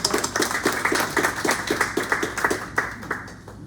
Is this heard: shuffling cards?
no